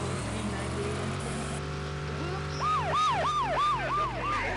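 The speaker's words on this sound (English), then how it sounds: "I do apologise about the cop cars being very loud, by the way, Tokyo." Police car sirens wail in the racing video game USA Racer, a loud repeating up-and-down whoop over a steady engine and game background, with no talk.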